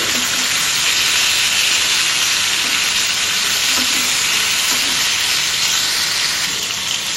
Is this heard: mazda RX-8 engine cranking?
no